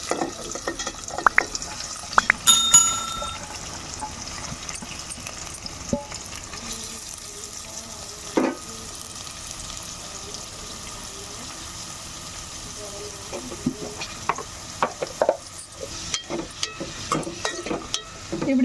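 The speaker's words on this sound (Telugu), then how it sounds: "నూనె వేడెక్కాక ఉల్లిపాయలు అయితే ఫ్రై చేసేసుకోవాలి" Onions frying in hot oil in a pan on a gas stove, a faint steady sizzle running throughout with occasional clinks and scraping of stirring, quiet and close.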